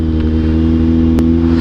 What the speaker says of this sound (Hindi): रिएक्शन तो आ ही जाएंगे जब इतनी तेज़ आवाज़ कर रही है बाइक।